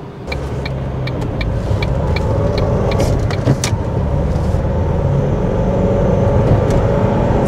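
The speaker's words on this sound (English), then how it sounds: "It doesn't quite feel like we're running on 3 cylinders, but it is very juddery now." A cheap Ford Fiesta's engine runs rough and juddery with a misfire, a loud uneven low drone inside the car punctuated by faint rattles and clicks, with no talking.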